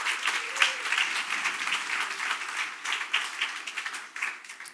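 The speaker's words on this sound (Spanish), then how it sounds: "Un aplauso al Señor y a San Pedro." A congregation at a Spanish-language religious teaching claps together in a brief, fairly soft round of applause that keeps an even, fluttering texture throughout.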